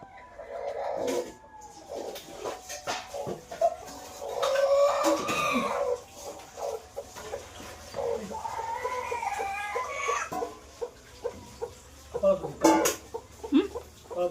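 Chickens cluck and squawk close by near a nest where eggs have hatched, with repeated agitated calls throughout and a voice talking under them.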